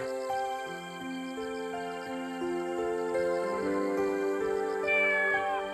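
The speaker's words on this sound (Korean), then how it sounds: "식구라고는 할머니처럼 늙은 고양이 한 마리뿐" An old cat meows repeatedly in long, drawn-out, wavering cries, close and fairly loud, rising in pitch toward the end.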